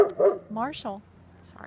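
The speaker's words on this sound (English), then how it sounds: "Sorry about the dogs." Dogs barking indoors, a few sharp yips and whiny barks close by, heard alongside a person speaking briefly.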